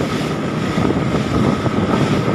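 Strong wind buffets the microphone on a boat heading home across open water. A loud, continuous rushing roar fills the whole stretch, with a wash of water beneath it.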